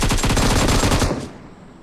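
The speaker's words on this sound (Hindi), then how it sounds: "तो विकराल साहब ने पहले नॉक बंदे पर गोलियां चलाई" Automatic gunfire in the BGMI mobile battle royale game, a fast burst of rapid, loud, evenly spaced shots lasting about a second before trailing off into quiet.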